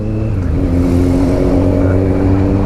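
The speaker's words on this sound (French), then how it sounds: "encore une moto de police" A police motorcycle passes in Paris city traffic, its engine droning loudly and steadily amid surrounding road noise.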